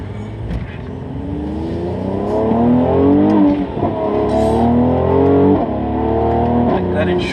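A V8 car engine with turbos mounted in the V revs repeatedly, loud and close, its pitch climbing in several rising sweeps and falling back between them, while someone talks over it.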